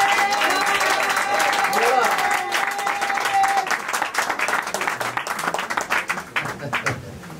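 Sustained congregation applause at a Christian wedding, dense and bright with cheering voices mixed in, thinning toward the end into scattered claps.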